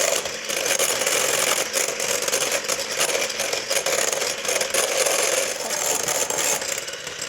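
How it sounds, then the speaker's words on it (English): Three egg yolks and the zest of three limes being whisked until thick and creamy, heard as a steady, unbroken whirring scrape that stays even and close throughout. "Right, so that's whisked up so it's nice and thick and creamy."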